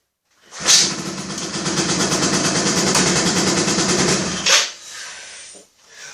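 Yamaha Aerox scooter engine starting, a loud continuous buzzing run lasting about four seconds, then cutting off abruptly into a brief fainter rattle.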